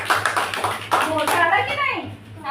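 Children in a classroom number lesson clap in a short burst of quick claps, mixed with children's voices talking over and after them.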